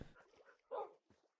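Minecraft dogs barking and yipping, a few short clustered yelps with one louder bark in the middle, fairly quiet, with no talking.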